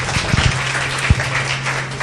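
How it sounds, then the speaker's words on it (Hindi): Brief applause from the audience of a motivational program on mind reading and memory power fills the room, with a steady hum and a couple of louder thumps. "अपने लिए तो जोर से ताली बजाइए।"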